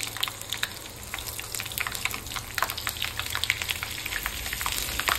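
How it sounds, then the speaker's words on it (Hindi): Mustard seeds and sliced green chillies frying in hot oil for a tempering, a steady close sizzle with scattered crackling pops from the seeds throughout. "इसके बाद इसमें लगाएंगे तड़का। यहाँ तेल में डाल रहे हैं राई,"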